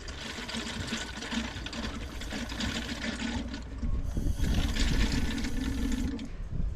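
Transmission oil being poured into a Gen 4 Pajero gearbox, a continuous gurgling, trickling flow with mechanical rattling, moderately close and steady with slight surges.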